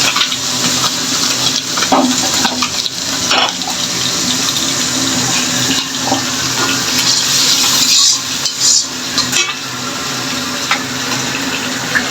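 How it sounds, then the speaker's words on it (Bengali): Water runs and splashes while a blender is rinsed in a sink. The flow is close and steady, with sloshing surges and a few clinks. No voices are heard. "আমি এখন এই ব্লেন্ডারটা একটু জল দিয়ে ধুয়ে দিলাম"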